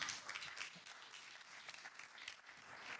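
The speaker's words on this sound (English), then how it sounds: "can we have a round of applause for Brigid" Faint, distant applause from an audience of around 250 at a B2B sales leaders event, steady clapping for a few seconds with no voices over it.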